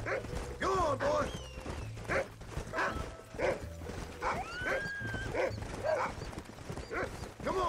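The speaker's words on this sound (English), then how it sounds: "That's a horse." Horse hooves clip-clopping at a steady trot in the video game Red Dead Redemption, close and continuous, with a dog barking and someone talking over it.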